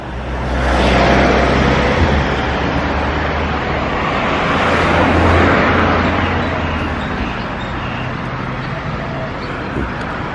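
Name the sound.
car park at the White Temple, Chiang Rai, with cars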